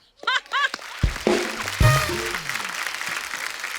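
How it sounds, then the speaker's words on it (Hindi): A studio audience at a comedy talk show breaks into loud, sustained applause that swells up and carries on to the end, after a few brief vocal sounds and thumps at the start. "जोरदार तालियां"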